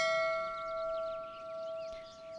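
A doorbell at an iron door in a Sherlock Holmes video game gives a clear, sustained ringing chime that holds steady and slowly fades, alone and fairly loud.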